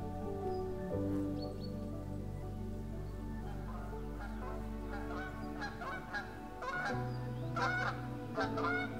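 Canada geese honk repeatedly at close range, loud nasal calls in irregular bursts over a low steady drone.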